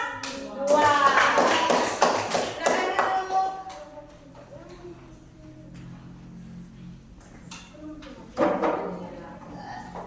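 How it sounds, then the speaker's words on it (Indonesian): Students in a classroom clap for a presenting group, a short burst of hand claps that fades quickly, followed by quieter shuffling and a voice speaking, then a brief final clap. "tepuk tangan untuk kelompok"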